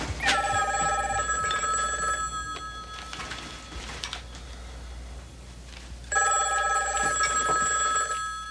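An old-style telephone bell rings in two loud bursts separated by a few seconds of quiet, close by with no voices.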